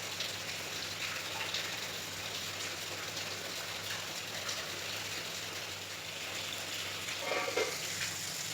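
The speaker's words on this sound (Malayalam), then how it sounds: "നല്ല മഴയാണെന്ന് ഞാൻ പറഞ്ഞിരുന്നു, ഒരു മഴ ദിവസമാണെന്ന്." Steady rain falling outside a kitchen window in Kerala on a rainy day, a soft even hiss that continues throughout with no voices.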